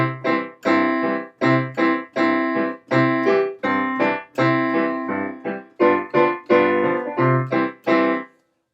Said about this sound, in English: So as an example, Jingle Bells would be in a duple meter.